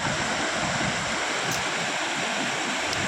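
Near a small waterfall by Patgaon dam, water rushes in a constant broadband roar, close and steady for a few seconds with no speech.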